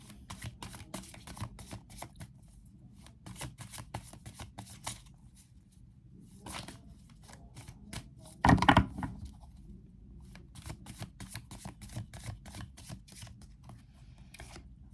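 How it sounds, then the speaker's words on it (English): Playing cards are shuffled close up in quick riffling bursts, repeated several times with brief pauses, plus one louder clack midway. "I'm going to shuffle the cards again."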